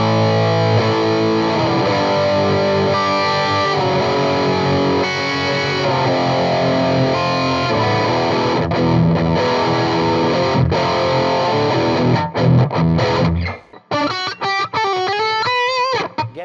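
Electric guitar played through a Mesa Mark V amp with a distorted, saturated tone, sustained chords and riffs ringing loud and close, ending in a brief run of bending lead notes.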